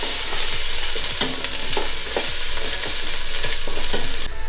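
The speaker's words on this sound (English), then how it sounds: "We just need to mix it all well." Garlic paste and slit chillies are stirred in a curry pot for a south Indian beef curry: a constant sizzle with rhythmic spoon scrapes and knocks against the pot, close and loud, no talking.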